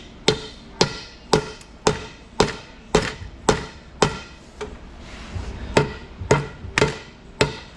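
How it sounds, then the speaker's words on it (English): A mallet strikes a metal drive shaft U-joint in a steady series of sharp, ringing blows, about a dozen hits with a brief pause midway, close and loud. "see how far I can get with a mallet"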